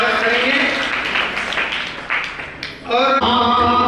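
An audience at a Hindu religious discourse festival breaks into applause, a burst of clapping mixed with voices and music, fading briefly before swelling again near the end.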